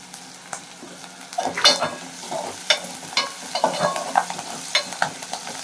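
Curry leaves hit hot oil for a boiled egg gravy and crackle and sizzle, with stirring scrapes and pops in irregular bursts, close and moderately loud.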